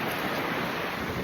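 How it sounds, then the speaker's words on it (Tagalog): Strong wind during a sandstorm roars steadily as dense, unbroken broadband noise, close and loud, with heavy buffeting on the microphone and no voices. "So windy."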